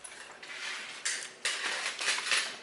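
Quiet metallic clanks and scrapes as two pots of stew are set down on a hard table in a Korean home-style restaurant, several distinct knocks in a row with no voices.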